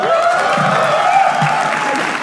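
Steady applause from a roast show audience fills the space, a dense wash of clapping that carries evenly without a break.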